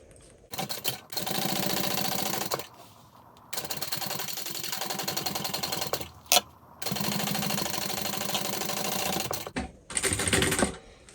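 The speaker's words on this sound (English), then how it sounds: "we're going to top stitch on either side of this seam" Sewing machine top-stitching along either side of a handbag panel seam, running in three long steady bursts of rapid stitching separated by brief pauses, close and loud with no talk.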